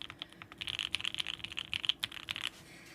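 Fast typing on a Fruitbar R2 mechanical keyboard gives a dense stream of close, crisp keystrokes for a few seconds, with one or two louder clacks and a quieter start and finish.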